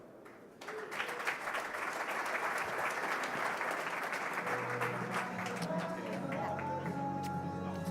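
An audience at a conference talk breaks into sustained, even applause to welcome the speakers, a dense clapping wash that starts suddenly and holds steady for several seconds.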